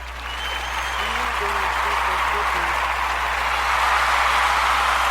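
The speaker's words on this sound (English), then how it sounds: "Let's give him a round of applause." An audience claps at an outdoor slam gathering by a fire, steady applause that swells slightly over five seconds, with a few voices calling out over a low constant hum.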